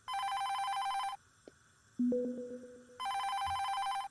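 A phone rings in a horror video game, two long bursts of a bright electronic bell tone separated by a pause that holds a short tonal chime and a plucked note.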